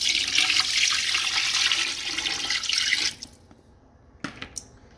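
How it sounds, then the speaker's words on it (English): Water pours steadily into a pot of turkey noodle soup stock for about three seconds, a broad rushing splash, then stops, followed by a few faint drips and small clinks. "I gotta add some water to it."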